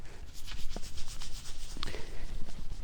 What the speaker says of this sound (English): all I'm using is just some Mother's aluminum polish